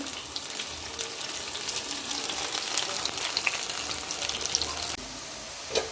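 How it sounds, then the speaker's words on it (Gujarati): Sev rolls deep frying in hot oil over a medium gas flame, a dense, continuous bubbling hiss that stays close and even throughout, dropping slightly near the end. "બધા સેવ રોલ તરી લઈએ અને પણ આપણે ચારથી પાંચ મીડિયમ ગેસ પર થવા દઈએ"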